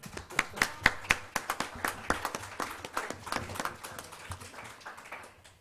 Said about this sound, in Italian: un applauso, eh?